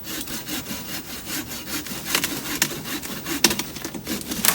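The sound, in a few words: cutting down a cassava plant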